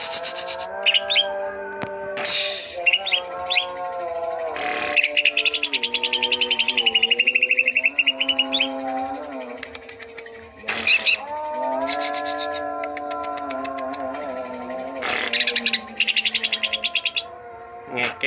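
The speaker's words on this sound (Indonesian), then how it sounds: "Ngekek burungnya Om." Several green leafbirds (cucak ijo) chatter and sing at close range, with busy, varied whistles, trills and sharp chirps repeating over about eighteen seconds, loud and continuous with short scratchy bursts between phrases.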